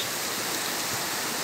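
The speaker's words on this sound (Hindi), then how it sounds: "बहुत तेज बारिश स्टार्ट हो गई है।" Heavy rain pours down in Faridabad as a steady, dense, close hiss that never lets up, with no voices over it.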